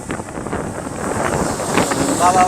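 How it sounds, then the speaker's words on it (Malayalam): Strong gusting wind at a beach buffets the microphone in a loud, rumbling roar, with a voice partly heard beneath it. "ഭയങ്കരമായ കാറ്റടിക്കുന്നത്."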